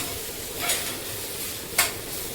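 Vegetables seasoned with turmeric and salt sauté in a pan, giving a soft, steady sizzle. Two brief sharper hisses of stirring stand out over it.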